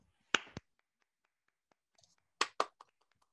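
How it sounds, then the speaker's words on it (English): Two small bursts of finger snapping from a poetry audience, a pair of quick snaps, a short pause, then another pair, soft and close with near silence between. "can you hear the applause?"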